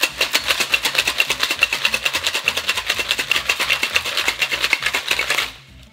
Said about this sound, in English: Time to shake.